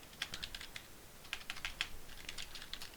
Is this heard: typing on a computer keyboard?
yes